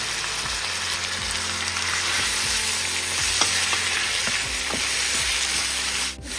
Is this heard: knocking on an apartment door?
no